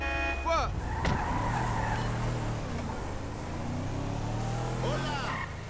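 Car engine in Grand Theft Auto V hums and shifts pitch while driving, with tire skids and revs, under a man's speech.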